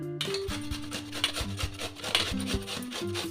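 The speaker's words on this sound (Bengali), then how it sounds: "লাউটাকে এমনি করে ছোটো করে নিচ্ছি।" Knife chopping a bottle gourd into small pieces, a run of close, irregular scraping and rasping cuts with no talk.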